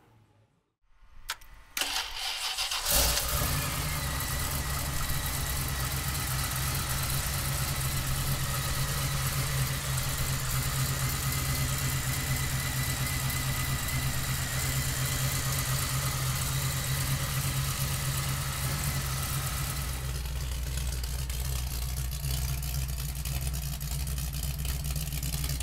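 A 1969 Ford Bronco engine cranks, catches and settles into a steady, close idle that runs on without talk, with a slight change in tone near the end.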